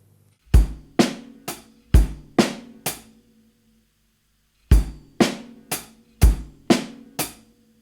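A drum kit plays a repeated pattern from a groove in 7. A run of six sharp, punchy hits is followed by a short silence, and then the same six-hit phrase comes back. Each hit is close and loud.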